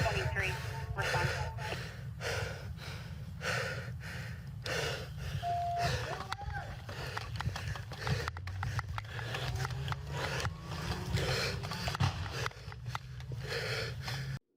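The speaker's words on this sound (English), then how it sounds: "A last gunshot is faintly heard under the heavy breaths of the police officer." A police officer breathes heavily and rhythmically in loud, close gasps and snorts throughout, with the faint gunshot masked and not distinctly audible beneath the breaths.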